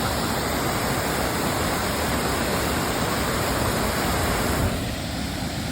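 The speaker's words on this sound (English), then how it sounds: "So there's a waterfall over here, so it should still be good." A steady, dense rush of falling water from a waterfall on the Lady Evelyn River in Temagami fills the whole clip, loud and continuous, easing slightly near the end.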